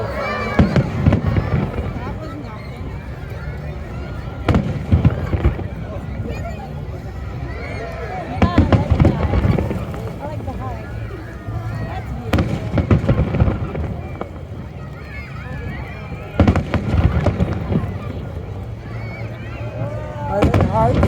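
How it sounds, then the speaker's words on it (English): Large fireworks show over Halifax, Nova Scotia: repeated booming bursts and crackling at irregular intervals, moderately distant, with crowd chatter and nearby voices throughout. "we're about to get our big fireworks show"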